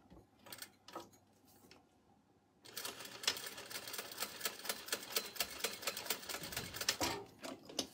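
A sewing machine basting a narrow seam on a drawstring backpack, starting with a few short bursts and then running in a steady, rapid rhythmic whir for several seconds before stopping.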